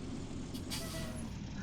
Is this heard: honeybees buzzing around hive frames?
no